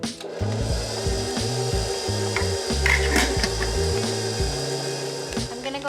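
Dry flour, baking soda, salt and cinnamon being stirred in a bowl, a continuous scraping, rubbing churn with gritty rhythmic strokes, close and fairly loud, no talk.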